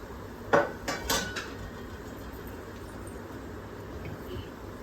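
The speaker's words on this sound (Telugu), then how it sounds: "ఇవన్నీ వేసి కలుపుకోవాలి బాగా." Spoon clinking and scraping against a bowl while mixing Ugadi pachadi ingredients like almonds, raisins, fennel and neem flowers, a few close, bright taps early on, then quiet room tone.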